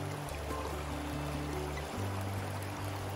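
Water rushes steadily through a gold sluice box over its riffles, a constant broadband flow with a low rumbling undertone and no pauses.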